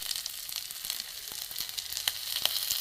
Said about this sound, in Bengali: এতে ফোড়নটাই হয়ে গেছে এতে আমি আদা বাটা দিয়ে দেবো